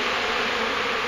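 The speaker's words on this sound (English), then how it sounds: "that's how many hives are around me right now, or how many bees" A dense swarm of honey bees buzzes steadily and loudly during a hive removal, a continuous close-up drone with no pauses.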